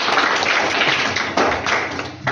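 A group claps for a correct answer in a children's quiz contest, with dense, steady applause close by throughout.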